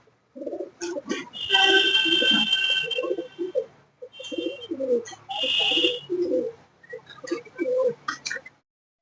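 Pigeons in a large Malwai pigeon loft in Kolkata as a pair is let out: bursts of fluttering wingbeats and soft cooing in three close, fairly loud stretches, with busy loft noise between them and no talk.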